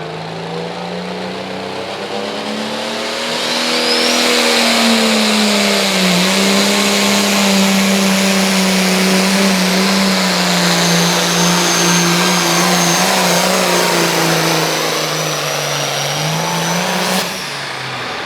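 A 4,500-pound small block 4x4 pulling truck at a truck and tractor pull revs hard and steady, its loud engine climbing and holding a droning pitch for much of the run, then easing off near the end.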